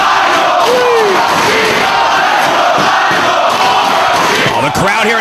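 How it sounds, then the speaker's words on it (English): A live crowd at a Ring of Honor professional wrestling show in Edison roars and cheers without a break, a dense, loud wall of voices with shouts rising over the top. "The crowd here in Edison wants to see this title change just as much as Nigel McGuinness wants it"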